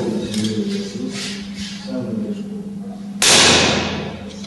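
A single sharp gunshot cracks out at a shooting competition after a stretch of muffled background noise, loud and close, with a brief ringing tail.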